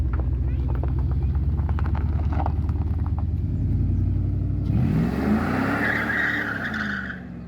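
Dodge Dakota 5.9 R/T pickup, long abandoned, running loud and close on its first drive with a steady engine drone that rises into a revving surge and brief tire-squeal-like whine near the end.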